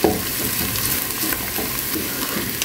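Mujaddara sizzles and fries in a pan while being stirred, giving a steady close crackle with soft scraping strokes running throughout and no voices.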